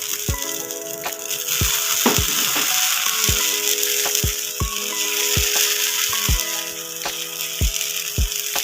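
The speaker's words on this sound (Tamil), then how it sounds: "இப்போ இதில் இந்த அடையை ஊற்றிக்கலாம்." Thick adai batter hits a hot dosa griddle with a steady sizzle, punctuated by a regular run of sharp clicks or taps at close range, with no talking.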